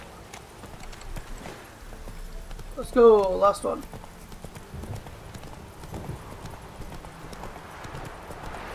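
Horse hooves clip-clopping in The Witcher 3 game world, steady and close under low ambient noise, with a voice speaking briefly over a short loud burst midway.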